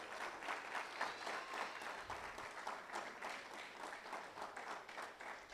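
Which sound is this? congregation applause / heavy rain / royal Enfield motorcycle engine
congregation applause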